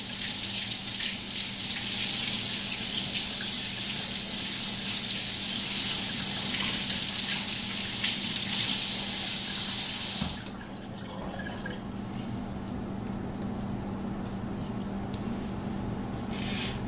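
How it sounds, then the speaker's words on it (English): Kiwis being washed under a running kitchen tap, a steady bright hiss of flowing water for about ten seconds that cuts off abruptly, leaving quieter room noise. "Wash these off with water."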